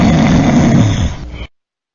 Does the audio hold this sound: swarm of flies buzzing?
no